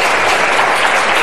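Steady applause from an audience, dense clapping that stays even and loud throughout with no voices over it.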